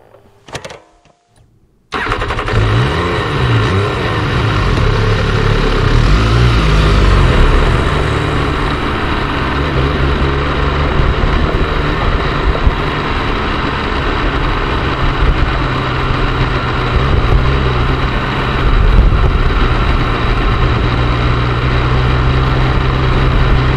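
An MV Agusta Brutale 800 F3 motorcycle engine starts after a brief quiet moment, then runs loudly and steadily close by, with a deep idle and small swells from light revving.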